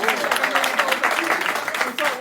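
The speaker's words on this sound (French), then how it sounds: "Applaudissements, oh." A crowd applauds loudly and steadily at a French elimination announcement, with voices and cheers mixed into the dense clapping throughout.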